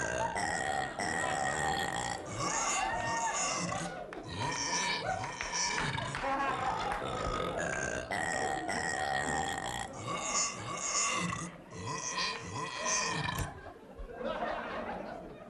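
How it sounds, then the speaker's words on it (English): A man on a call-in show belches a tune, a long run of rhythmic, pitched burps stretching for about fifteen seconds, loud and close, with laughter mixed in around them. "I can belch the Blue Danube Waltz."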